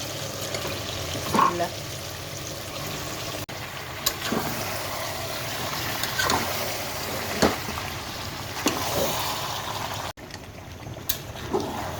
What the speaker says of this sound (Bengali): মাংসটা আমি সব নেড়ে কষাবো